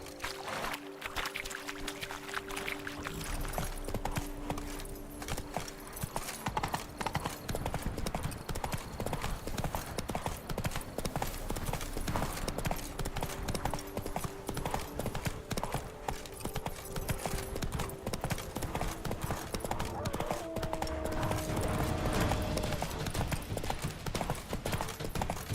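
Geralt's horse Roach from The Witcher 3 gallops without pause, a loud, fast and steady beat of hooves that lasts throughout under a constant game ambience.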